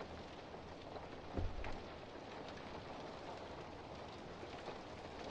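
Steady rain falling in the horror video game Fobia St. Dinfna Hotel, a dense continuous hiss with a brief low rumble early on, moderately quiet and heard alone.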